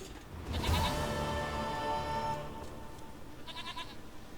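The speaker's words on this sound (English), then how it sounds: "Goat of mine, dearest, sweetest goat." Goat bleating in The Witcher 3: one long, loud, wavering bleat, then a shorter, quavering bleat near the end, set against faint game ambience with no talk.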